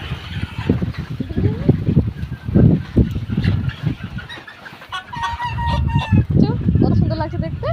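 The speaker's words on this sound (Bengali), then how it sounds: "এই দেখো কত সুন্দর মুরগিগুলো" Red-combed chickens of matching size cluck and squawk close by, in repeated irregular bursts, while a person talks over them.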